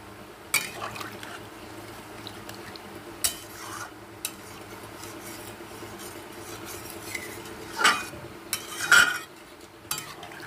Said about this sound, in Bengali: এই পর্যায়ে আমি দিয়ে দেব পরিমাণ মতন জল